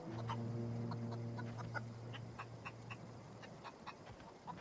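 A rooster character in The Outer Worlds video game gives clucking, crowing calls over a low steady game hum, repeated bursts fairly close and moderately loud, no talking.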